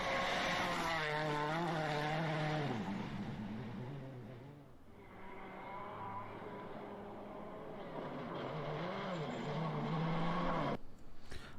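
A Proton R5 rally car drives fast on a stage, its engine note climbing and dropping through gear changes as it passes at moderate distance, then fading before another revving run builds again.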